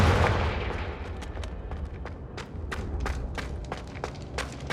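A Confringo fire spell bursting in Hogwarts Legacy, a loud thumping explosion at the start that decays into a rumble, followed by a run of sharp, irregular impact cracks.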